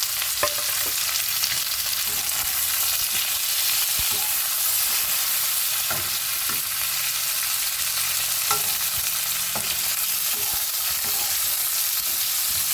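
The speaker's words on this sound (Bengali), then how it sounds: "এইবার ভেজে রাখা সবজিগুলো দিয়ে দেবো" Fried vegetables go into hot tempering in a pan for Bengali bottle gourd greens, giving a loud, continuous sizzle with occasional stirring clinks and scrapes, close and without talk.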